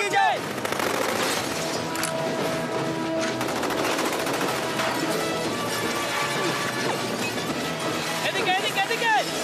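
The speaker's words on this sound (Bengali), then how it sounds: "ওদিক থেকে গুলি করছে" Gunfire in a dubbed action scene from the 2008 film Hancock, with rapid bursts and crashes running loud and continuous beneath urgent shouted voices.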